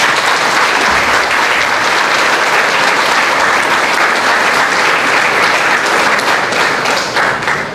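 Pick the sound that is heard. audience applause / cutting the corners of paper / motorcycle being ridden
audience applause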